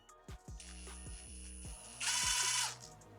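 A Makita DTD173 cordless impact driver runs up through several speed steps: short whirring bursts, then a sustained motor whine that jumps abruptly to a louder, harsher hammering level before cutting off, close and alone.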